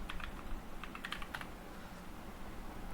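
A computer keyboard clicks as a new folder is named, a few quick bursts of light, faint keystrokes in a quiet room, then a pause.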